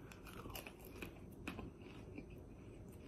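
Someone eats KFC fries in Germany, with quiet, close biting and crunchy chewing repeated throughout and no talking.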